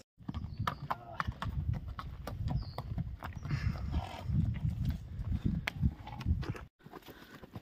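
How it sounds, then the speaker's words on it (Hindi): Horse hooves clip-clop steadily and briskly throughout a ride through dense forest in the Kumaon hills near Nainital, close and continuous, then stopping abruptly near the end. "तो अब हम जो घोड़े की सवारी कर रहे हैं"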